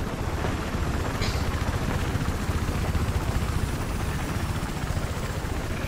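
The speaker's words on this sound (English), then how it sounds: "Got eyes on an enemy helicopter to your east." Enemy helicopter in the video game Battlefield 4, a steady rotor thrum and engine drone sustained throughout, moderately loud and unbroken, with no talking over it.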